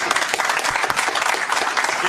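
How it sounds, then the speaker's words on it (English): Scattered applause from a small crowd, a brief, steady patter of claps heard close and alone without speech. "A smattering of applause."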